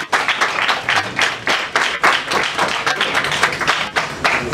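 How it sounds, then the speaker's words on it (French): An assembly gathered for a Lingwala commune project event by the Bana Saint Jean Fondation claps steadily, with dense, rhythmic applause rising and falling throughout. "Voilà, acclamez plus fort"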